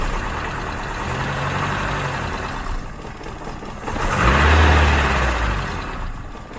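A Ford Cortina MK3 engine with no auto choke runs up close, idling roughly before the revs swell into a louder, deeper surge and then settle back toward idle.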